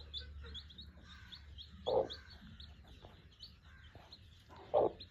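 Aseel champion-breed chickens cluck and call nearby, two louder squawks standing out over a steady backdrop of faint chirping birds in a quiet yard.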